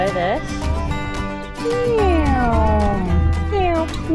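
A person imitates a cat with a run of high, rising-and-falling meows, several in quick succession, loud and close, against steady outdoor background noise with low rumbling.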